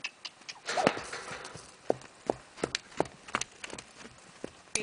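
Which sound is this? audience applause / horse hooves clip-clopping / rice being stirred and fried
horse hooves clip-clopping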